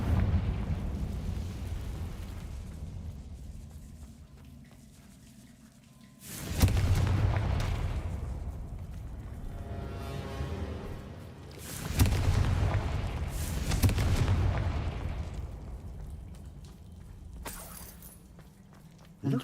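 Confringo fire spell in the Hogwarts Legacy video game, a series of deep booming explosions that swell and roll out over a quiet rumbling room ambience, with three main blasts spaced several seconds apart.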